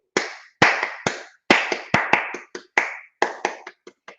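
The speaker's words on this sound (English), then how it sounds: "if I clap a rhythm for you" Hands clap a rhythmic pattern of sharp, close, loud claps with uneven spacing and short pauses, heard alone with no talking.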